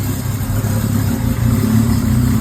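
A freshly rebuilt Camaro engine runs loud and close, a steady deep rumbling idle with a slight rise in intensity.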